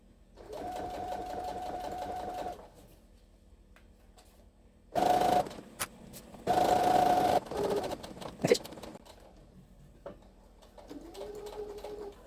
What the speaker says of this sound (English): Put it back down and finish sewing to the end.